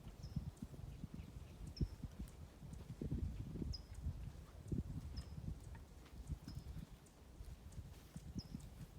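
A horse moves around a round pen, its hooves clip-clopping in a steady walking rhythm over rustling ground noise, with faint chirps above and no talking.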